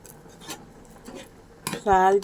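A utensil clinks against a pot while rice milk pudding (paramannam) is stirred, giving a few scattered light taps and then a sharper ringing metallic knock near the end.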